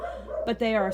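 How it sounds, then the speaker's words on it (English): A pet dog barks twice in quick succession close by, short bright yips that break over steady indoor talk. "sorry about my dog barking"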